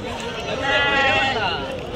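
Sixteen sheep and rams bleating in a wavering chorus at a weekly livestock market, loud and close, with people talking over them.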